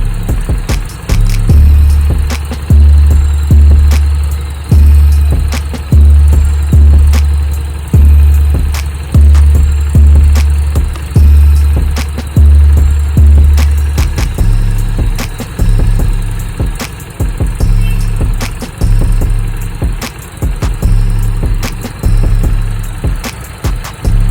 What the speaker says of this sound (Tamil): வண்டியில் அதுக்குள்ளே பார்த்தீங்கன்னா ரேடியேட்டர் ஃபேன் ஆன் ஆக ஆரம்பிச்சிருச்சு.